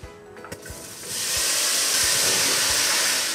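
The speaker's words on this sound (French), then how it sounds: "Puis on va y faire cuire nos champignons." Mushrooms drop into hot oil in a pan and a loud, steady frying sizzle takes over after a few soft clicks and knocks, close and continuous to the end.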